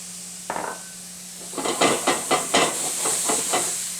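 Butter and onions hitting a hot pan with mushrooms, a quick sizzle followed by a run of rhythmic scraping and stirring clatters over a steady hiss, close up and moderately quiet.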